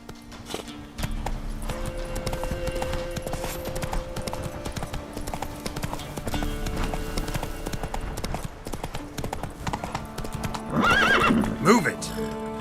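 A horse gallops in The Witcher 3 video game: steady hoofbeats over a sustained musical backdrop, ending in a loud, wavering neigh near the finish.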